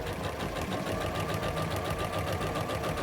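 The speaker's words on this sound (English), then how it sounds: "I'm going to sew forwards and backwards" A sewing machine stitching a French seam in fabric, running steadily forward and back with a fast, even mechanical whir and needle patter, close and continuous throughout.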